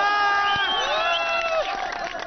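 A crowd cheers and applauds the runner-up team at a tournament final prize ceremony in Ladakh, with loud sustained shouts and voices rising and falling over scattered clapping.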